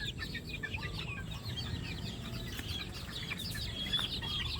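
White Leghorn chicks in a brooder, a dense chorus of high chirps and peeps running steadily throughout with a low rumble of background noise beneath, no voices.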